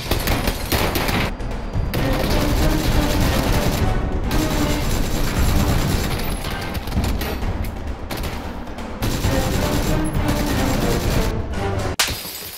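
Dense gunfire in PUBG rattles almost nonstop, loud rapid bursts and shots packed together with only a few short gaps between volleys.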